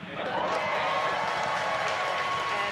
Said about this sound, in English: obviously confirmed by the loud cheer behind us here at Mission Control Hawthorne